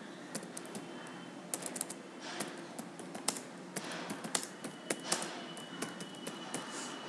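Keys pressed on a computer keyboard during Tally accounting software entry, a steady run of quick, light clicks and taps at close range, with no talking.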